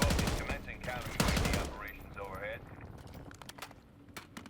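GPR-91 assault rifle fire in Black Ops 6, loud rapid bursts up front, then scattered shots and clattering footsteps fading under ongoing game noise, with voices talking over it.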